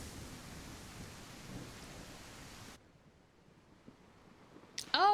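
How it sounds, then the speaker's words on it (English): Steady broadband rain with thunder rumble fills a tropical island scene in the game Restore Your Island, then cuts off abruptly to near quiet before a brief tonal chime at the end. "I wonder if the storm will clear or if it just keep raining."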